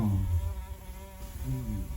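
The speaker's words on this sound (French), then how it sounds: "Oh, c'est une mouche, putain." A housefly buzzes close by with a continuous droning whine that wavers as it moves around, steady and fairly loud throughout, with no talking.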